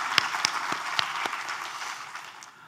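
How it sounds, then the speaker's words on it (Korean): Church congregation clapping in a small, sparse burst, with a handful of distinct sharp claps over a soft background that fades out within a few seconds. "우리 하나님께 감사와 영광의 박수를 드리겠습니다"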